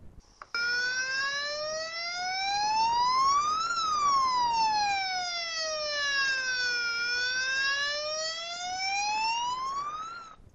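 An emergency vehicle siren wails steadily, its pitch sweeping slowly up and down in long cycles, loud and close with no talking.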